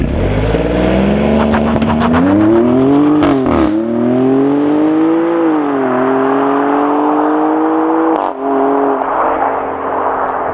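A Maserati Grecale Trofeo's 3-liter V6 revs up and down in long rising and falling sweeps, loud and close, with a few sharp blips between pulls.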